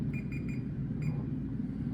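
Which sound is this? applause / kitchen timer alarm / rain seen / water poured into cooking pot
kitchen timer alarm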